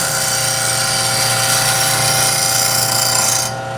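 A back bevel is ground on a small hollow form turning tool, a loud, steady, close whine of a grinder with a constant hum, easing off just before the end.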